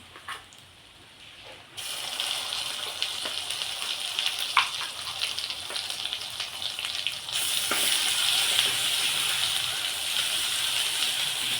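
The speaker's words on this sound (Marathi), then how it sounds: "चांगला परतून घ्यायचा मसाला." Spice masala for chole sizzles and fries in a kadai in a home kitchen, a loud continuous hiss that jumps up in intensity partway through, with occasional stirring clinks.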